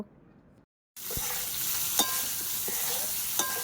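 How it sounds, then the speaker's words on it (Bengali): Potatoes frying in a pan with salt and turmeric for a Bengali fish curry: after a brief silence, a steady close sizzle with a few sharp clanks of stirring. "লবণ হলুদ দিয়ে আলুটা আমি ভালো করে ভেজে নেব"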